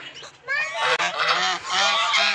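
Domestic white fowl, ducks and geese, honk loudly in repeated nasal calls in a village farmyard, close and continuous with overlapping voices.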